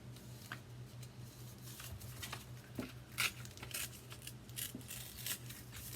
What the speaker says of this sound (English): use my scissors to cut the rest of it